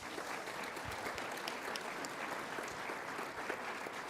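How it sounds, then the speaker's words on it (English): Audience applause for the platinum sponsor at the JSConf Iceland 2018 conference: a dense, steady wash of many hands clapping at moderate level, sustained throughout with no voices over it. "Please give them a round of applause."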